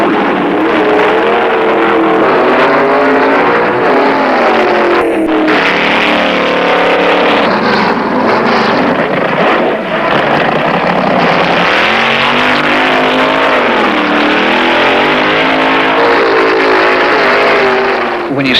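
A Mickey Thompson 1969 Mustang Funny Car roars at full volume as its tires spin, a harsh, sustained engine blare with rising and falling revs that lasts the whole stretch and drowns out everything else.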